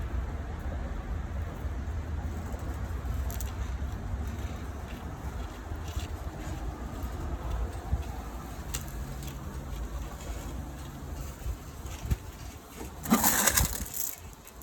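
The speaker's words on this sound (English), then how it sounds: "Pretty windy out today." Steady low rumble of wind buffeting outdoors in a succulent rock garden throughout, with a brief louder gust near the end.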